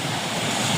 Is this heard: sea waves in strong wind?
yes